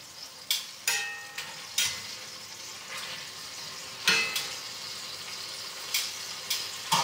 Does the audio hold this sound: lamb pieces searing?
yes